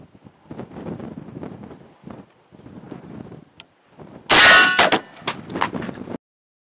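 An exploding shotgun slug strikes a steel I-beam with a single loud, ringing metallic clang that decays over about two seconds, after a stretch of quieter outdoor rustling and handling noise.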